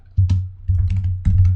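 Fingers tapping on a computer keyboard in short clustered bursts of soft, close clicks with a low thud beneath, no talking.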